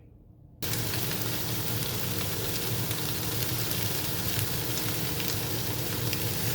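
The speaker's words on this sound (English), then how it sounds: "of green peppers and a ½ pound of white onion. We're just gonna saute this up" Green peppers and white onion sauté in a pan, producing a loud, constant sizzle and crackle that begins suddenly and holds steady throughout without any talking.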